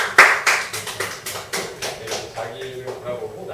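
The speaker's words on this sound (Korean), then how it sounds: "아 박수" A small audience applauding at a group lecture, a short burst of brisk hand claps that fades into scattered, slowing claps.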